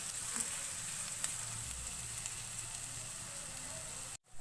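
Finely chopped ingredients fry in a pan over a medium flame as they are mixed, producing a close, continuous sizzle that cuts out briefly near the end.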